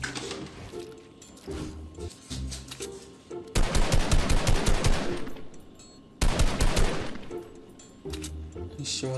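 Fortnite gunfire during a Halloween match, loud bursts of rapid automatic shots in two main volleys with scattered single shots between, with someone talking over the action.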